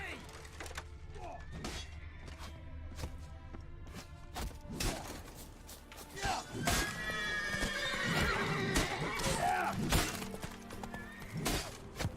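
Hooves clip-clop from a horse in The Witcher 3 while a horse neighs and whinnies several times, with sharp thuds and game speech mixed in.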